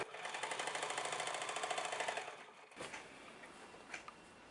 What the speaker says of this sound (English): And then I'm just going to sew it around, all the way around.